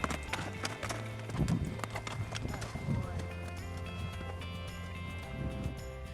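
Horse hooves clip-clop in an uneven rhythm up a steep mountain slope during a mountain goat bowhunt in British Columbia, with a steady low hum and scattered talk underneath.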